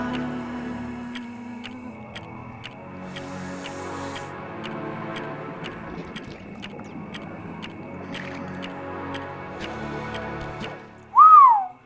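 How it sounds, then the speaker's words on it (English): A person gives one loud, brief sliding whistle right into a close microphone near the end, after a long stretch of soft, regular ticking from the video game Sly Cooper and the Thievius Raccoonus. "I gotta stop whistling into the microphone like that."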